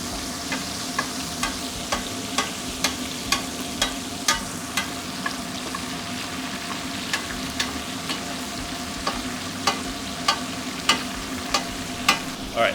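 Steak sears in a hot pan, a steady sizzle broken by regular sharp ticks and taps that repeat every second or so, close and moderately loud with no voices.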